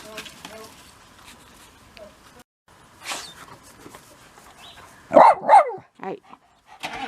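Puppies near a pickup truck give a few sharp yips and barks, loudest in a close pair of bursts near the end, with scattered quieter sounds and pauses before them.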